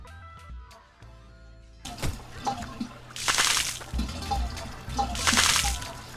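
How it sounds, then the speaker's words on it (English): Water splashes in an indie video game where water passes through pipes, heard as two loud, bright bursts about two seconds apart that follow a softer trickling passage and a brief plucked musical intro. "I think also I need to change the volume of the water splash."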